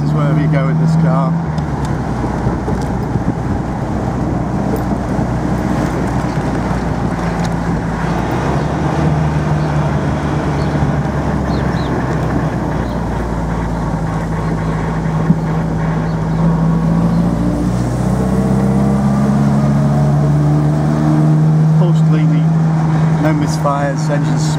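A 1950 MG TD Midget roadster's engine runs steadily and close by as it drives through town streets, a continuous low drone with gear and pace changes and no talking over it.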